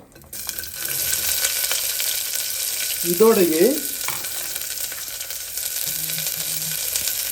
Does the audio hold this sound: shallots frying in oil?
yes